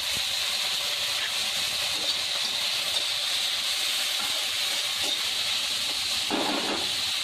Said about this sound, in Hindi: हमारे मटर अच्छे से भुन चुके हैं प्याज में।